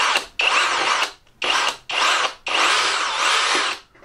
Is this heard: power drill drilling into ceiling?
yes